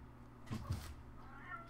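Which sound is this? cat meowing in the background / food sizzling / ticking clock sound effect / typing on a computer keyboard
cat meowing in the background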